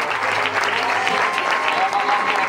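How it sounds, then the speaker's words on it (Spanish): An audience at the official season presentation of the C D Can Parellada sports club applauds a player, a steady burst of dense clapping with a few voices audible underneath. "Un aplaudiment per ell, sisplau."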